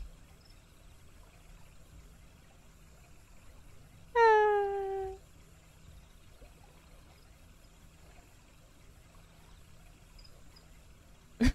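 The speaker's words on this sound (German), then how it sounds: "meine dicke Katze" A fat pet cat in the Final Fantasy XIV video game lets out a single clear, drawn-out meow partway through, over an otherwise quiet background hum.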